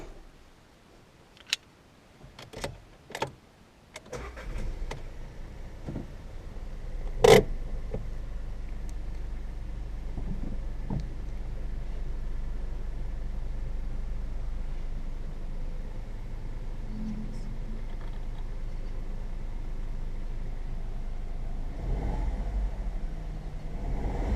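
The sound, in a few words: Seat Ibiza 1.0 TSI car engine starting and running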